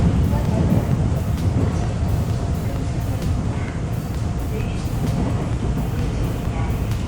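Steady rumbling of an electric commuter train running at 50 km/h on Korea's Gyeongui Line, a continuous low roar with faint rhythmic clicks, a voice talking over it.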